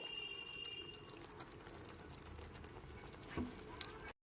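Fried flat beans are tipped into simmering gravy and stirred, giving a low wet bubbling and sloshing with a few louder clunks near the end.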